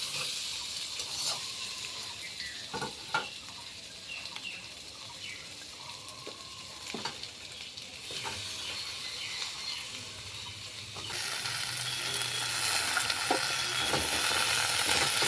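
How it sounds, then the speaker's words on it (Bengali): Fried potatoes hiss quietly in a pan with scattered stirring clicks as chopped Malabar spinach goes in, the sizzle growing louder and fuller in the later part. "এখন আলুর মধ্যে কেটে রাখা পুঁই দিয়ে দেবো"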